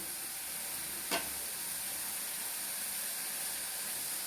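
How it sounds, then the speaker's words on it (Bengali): Cabbage frying in a hot pan, a steady bright hiss of sizzling oil with one short sharp scrape or clack near the start, close and continuous. "এখন আমি বাঁধাকপিটা এখানে অ্যাড করে দিব"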